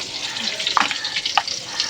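Potatoes fry in oil with a steady, close hiss, marked by a few brief sharp crackles and pops.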